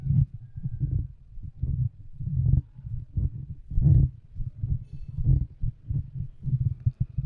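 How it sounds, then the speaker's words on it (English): Low, muffled thumps and rumbling bumps from a Samson Q7x or Q8x microphone being handled, irregular and close, with no clear speech. "check with the handling noise"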